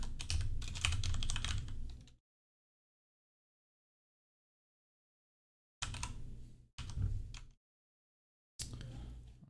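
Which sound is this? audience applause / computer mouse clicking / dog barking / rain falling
computer mouse clicking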